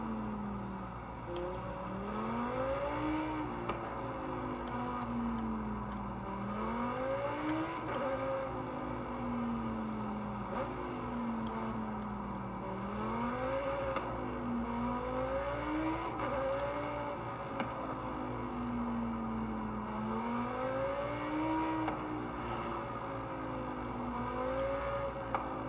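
A Lamborghini Huracan STO engine in Forza Horizon 5 drones steadily through free roam, its pitch climbing and dropping in repeated rev sweeps as the car accelerates and shifts, loud and close with no talk.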